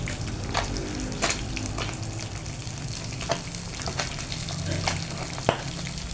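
Galunggong fish frying in hot oil, a continuous close sizzle broken by sharp pops and spatters of oil, heard alone with no talking.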